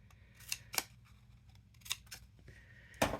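Scissors cutting paper for a handmade paper heart-shaped box, a few separate close snips with quiet gaps between, then a louder crunchy cut at the end.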